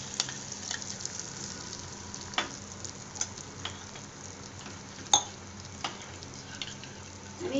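Chilli paste with red chilli powder and salt sizzles steadily in a pan, a continuous close frying hiss broken by occasional sharp clicks and scrapes of stirring, with no voices.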